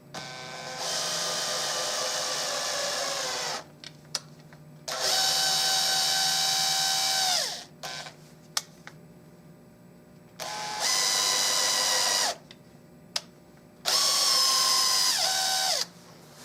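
A power drill whirs in four separate bursts of a few seconds each while drilling a custom Mauser rifle stock, the motor pitch winding down at the end of each; short clicks fill the pauses.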